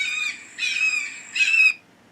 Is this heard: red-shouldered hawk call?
yes